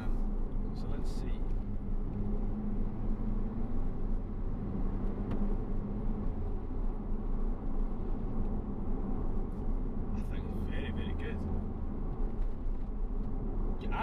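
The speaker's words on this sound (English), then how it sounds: "what's the noise insulation like inside when the roof is up" Steady low road and engine rumble inside a 2020 Porsche 992 Turbo S Cabriolet with its soft top up, a muted, even drone that stays constant throughout with only faint higher hiss.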